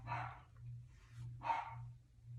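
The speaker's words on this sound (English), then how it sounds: "I don't know what my dogs are barking at." Dogs barking indoors, two short distinct barks over a low steady hum, fairly faint.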